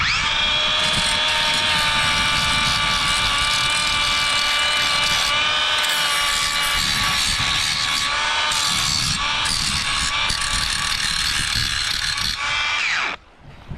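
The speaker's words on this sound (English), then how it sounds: "I'm going to grind this meat hook down so it doesn't chafe the sail up or catch" Power grinder working a metal meat hook on a sailboat: a loud, close, continuous high whine that wavers in pitch as the tool bears on the metal, then cuts off at the end.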